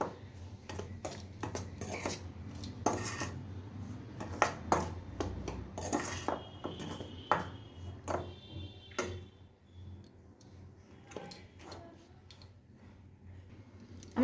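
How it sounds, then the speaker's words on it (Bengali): Dry ingredients for sora pitha, with a pinch of salt and baking soda, being mixed in a bowl, giving repeated quick clinks and scrapes of a utensil against the bowl that run steadily throughout. "এবার এগুলোকে ভালো করে মিশিয়ে নেব শুকনো উপকরণগুলোকে"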